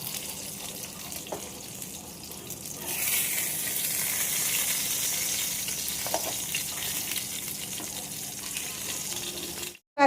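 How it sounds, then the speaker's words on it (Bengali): Fish pieces rubbed with salt and turmeric fry in hot oil, giving a soft, steady sizzle that swells after a few seconds and holds as a continuous hiss. The sound is faint and close, with no talking. "মাছগুলো ভেজে নিই"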